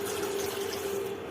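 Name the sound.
water poured over tamarind to soak it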